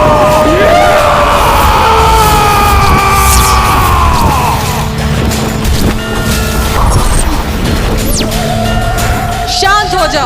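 The asura Durgamasur screams loudly in a Hindu mythological drama, a raw, sustained bellowing roar layered over booming dramatic music and effects throughout.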